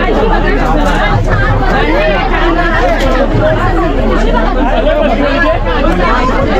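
Crowd chatter aboard the crowded Tutari Express train out of Thane: a loud, constant babble of many overlapping voices close around, with a steady low rumble underneath.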